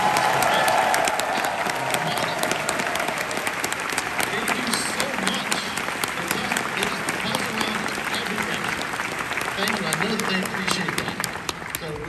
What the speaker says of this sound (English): I would like to hear a big round of applause for every staff.